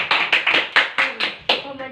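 A classroom of students claps for a presenting group, about seven short, sharp claps in an uneven rhythm, close and fairly loud, with faint voices underneath.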